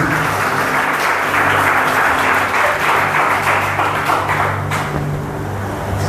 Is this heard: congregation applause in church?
yes